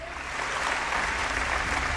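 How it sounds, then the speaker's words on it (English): A film-week audience at Mauritius Cinema Week 2018 applauds a guest walking on stage, a brief wash of crowd clapping and cheering held at a steady moderate level. "Give him a big round of applause, ladies and gentlemen"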